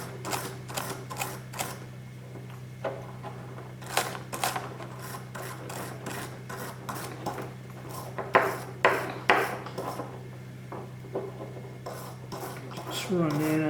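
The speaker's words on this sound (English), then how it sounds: "So we'll get our brush, scrub that problem area where it built up in that little neck there." A brush scrubs a built-up neck area on AR-15 rifle parts during a thorough cleaning, giving repeated short scratchy strokes in quick bursts over a steady low hum, close and fairly quiet, no talking.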